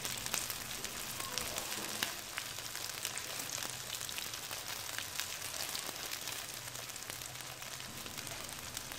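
Vegetarian sweet and sour ribs fry in a pan of hot oil over medium-low heat, giving a steady, dense sizzle with fine crackles and pops that continues without talk.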